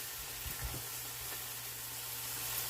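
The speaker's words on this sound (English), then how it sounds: "So basically I'm just sauteing those down right now." Onions and mushrooms sauté in a pan with a soft, steady sizzle, faint and close, with a couple of light utensil bumps early on and a low hum underneath.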